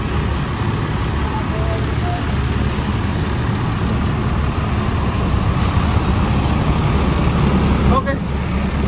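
Bus engine rumbling close by in busy traffic as it turns in to park, with a brief hiss of air brake near the end and voices talking over the noise.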